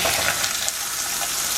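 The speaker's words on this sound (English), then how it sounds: "See that sizzle? That means you got a nice hot pan." Chicken sizzles in a hot frying pan, a continuous close, bright crackling hiss with no talking.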